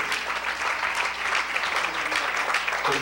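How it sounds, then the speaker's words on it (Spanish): Congregation applauding in a Pentecostal church, a dense continuous roar of many hands clapping, loud and steady with no break. "Give another applause."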